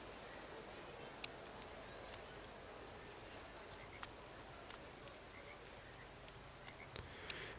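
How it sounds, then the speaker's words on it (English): Steady broadband rain hiss in the Motorsport Manager racing game, continuous and even throughout with scattered faint ticks and patters, no talk over it. "It is raining, certainly to begin with."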